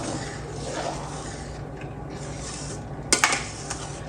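A spoon stirs cardamom powder into sago and vermicelli kheer in a pot with a soft, continuous scraping swish, then a few sharp metallic clinks against the pot near the end.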